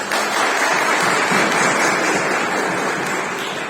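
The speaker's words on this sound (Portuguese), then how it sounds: "Palmas aí para as crianças." A church congregation applauding children at an Easter service, a steady dense wash of clapping that holds loud and even for a few seconds before easing slightly.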